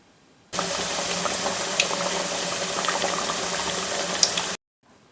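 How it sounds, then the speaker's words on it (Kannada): Fenugreek leaf and wheat flour nippattu frying in hot oil, a steady dense sizzle and bubbling that starts abruptly, holds loud and even for about four seconds with small pops, then cuts off. "ನೋಡಿ, ಇದೀಗೆಲ್ಲ ಚೆನ್ನಾಗಿ ಫ್ರೈ ಆಗ್ತಾಯಿದೆ."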